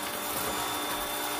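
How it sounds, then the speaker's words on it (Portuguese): Electric hand mixer whipping Dr. Oetker powdered whipped cream mix with cold milk, a steady high-pitched motor whine that is close and continuous with no talk. "Vou com a batedeira"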